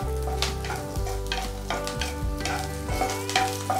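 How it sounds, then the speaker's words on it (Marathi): Garlic cloves roasting in a pan for curry leaf chutney make a sizzle with stirring noises and spatula taps, heard close under prominent background music. "तर लसूण छान असा भाजून घ्यायचा"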